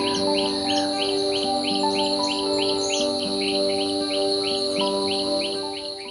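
An Indian treepie calls amid steady outdoor ambience, with a rapid series of short, repeated chirping notes running through the whole stretch alongside a constant insect-like buzzing drone.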